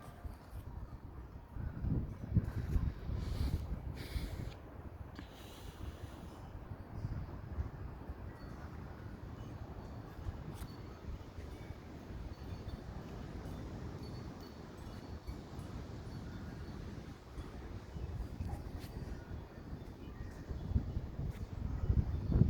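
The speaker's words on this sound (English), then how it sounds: "That has to be the best gust I've caught all day." Big wind gusts roar through trees on an extremely windy day, a low rumbling surge that swells and fades over about twenty seconds, with rustling and some microphone wind buffeting, heard without talk.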